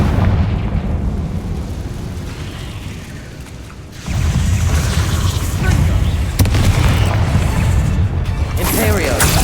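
The Confringo fire spell goes off in Hogwarts Legacy with loud, dense blasts and rumbling booms. A brief dip comes before a second sustained surge of explosive roar, and game dialogue is heard under the combat noise.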